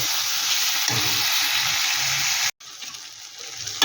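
Kashmiri chilli, cumin and turmeric spice paste frying in oil for a kachki fish curry, a steady close sizzle with stirring scrapes underneath, broken by a brief cut near the end before the sizzle resumes.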